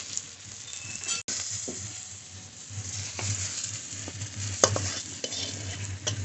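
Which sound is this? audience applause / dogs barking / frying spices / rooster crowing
frying spices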